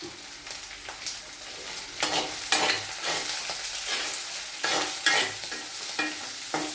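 Ingredients for green chilli rasam sautéed in a pan, a continuous sizzle broken by repeated scraping stirs every second or so, close and moderately loud with no talking.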